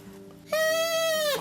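A single reedy note from a thick, long willow bark pipe blows suddenly and holds steady for about a second, buzzy and close, over a faint background murmur.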